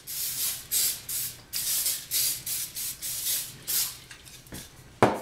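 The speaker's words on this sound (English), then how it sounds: "we're actually gonna take a tad bit of the spray." Short hissing bursts of an aerosol cooking spray coating a baking pan, about ten quick sprays in an uneven rhythm, close by, ending with a light clunk.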